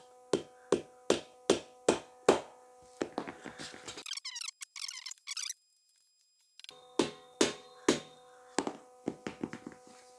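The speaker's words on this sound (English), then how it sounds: "then use the hammer to gently knock it in." A hammer knocks a steel beam into a boltless shelving unit with a string of sharp, evenly spaced close taps. There is a short pause partway through with some higher squeaky scraping, then the taps resume.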